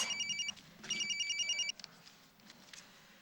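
A telephone rings in two trilling electronic bursts, fairly faint in a quiet room, followed by soft clicks and handling noises.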